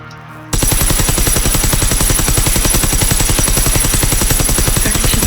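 Rapid, loud continuous automatic fire from an experimental electric weapon in the video game Generation Zero, a dense buzzing stream of shots that starts abruptly and runs without pause.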